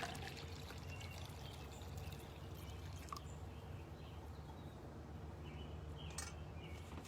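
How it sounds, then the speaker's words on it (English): Hot water is poured into a large four-cup cup for hummingbird food mix, a soft continuous rushing stream, faint and steady from start to finish. "And we're gonna pour the hot water in."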